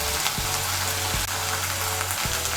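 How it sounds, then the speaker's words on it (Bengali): Ginger and garlic paste frying in oil with onion paste for cauliflower korma, a continuous close sizzle with a few soft stirring knocks. "এই দেখুন পেঁয়াজ বাটাটাকে তেলের সঙ্গে মিশিয়ে নিয়ে একটু ভেজে নিয়েছি।"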